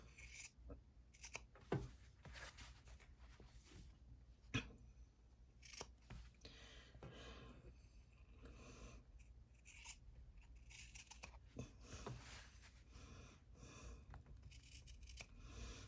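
Close, quiet snips and crunches of scissors cut through the fabric of a flapped purse made on an embroidery machine, coming in irregular bursts with soft rustling and handling sounds between cuts and no speech.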